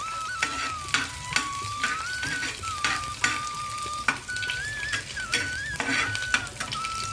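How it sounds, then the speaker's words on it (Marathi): Green chillies fry in hot oil with peeled garlic cloves for a drumstick-leaf bhaji, a steady close sizzle broken by repeated scraping stirs, with a thin tonal whine running underneath. "यामध्ये आपण मिरच्या टाकूया बघा मिरच्या आम्ही ऍड केल्या मग जरा ढवळायच्या"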